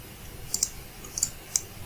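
A few light, sharp keyboard clicks in small clusters over a quiet background: a short burst of typing on a computer keyboard during software modeling work.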